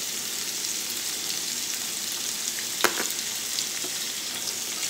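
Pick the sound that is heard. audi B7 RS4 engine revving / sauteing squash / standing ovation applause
sauteing squash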